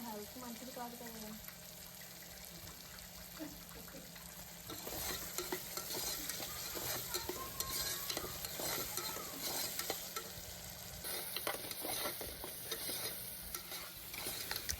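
Chopped tomatoes sizzle in a hot pan while a spoon stirs them, giving a soft, steady frying hiss with repeated scraping strokes. Faint, close up, and the sizzle grows fuller partway through.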